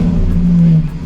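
A Lamborghini Aventador SVJ with a Gintani F1 exhaust revs loud and close, a deep sustained engine roar that holds steady and then eases off within about a second.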